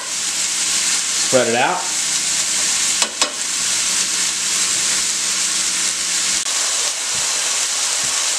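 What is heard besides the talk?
pork tenderloin cooking on high heat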